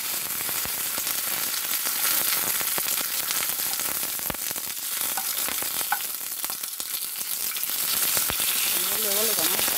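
Dried pasilla chiles fry in hot oil in a pan for red mole, a loud continuous close sizzle with crackles and stirring scrapes throughout.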